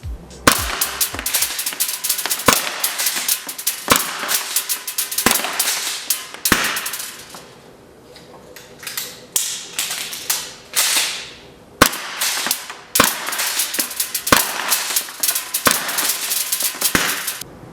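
HPA-tapped gas airsoft guns fire at an outdoor range in sharp, loud cracks, some single and some in quick bursts, with a brief lull in the middle before the shooting picks up again.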